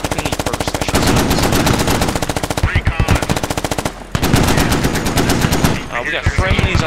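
Marine .50 cal heavy machine gun and Mk19 grenade launcher firing in sustained, loud automatic bursts close by, with a brief pause before the heavy rapid fire resumes.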